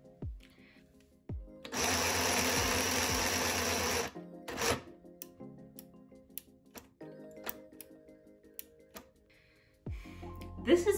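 A handheld Singer Stitch Quick sewing machine runs in a loud, steady buzzing burst of about two seconds, with shorter clicks and mechanical taps around it and brief talk between.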